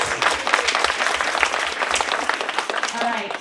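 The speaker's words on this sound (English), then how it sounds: "give Great Neck North a round of applause" A crowd at an Asian-American Pacific Islander awards event applauds briefly for Great Neck North, a dense burst of clapping with some voices mixed in, fairly close and fading slightly toward the end.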